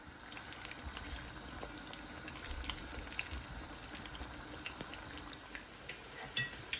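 Plantains frying in oil in a frying pan, a steady close sizzle and bubbling with scattered sharp pops and crackles throughout.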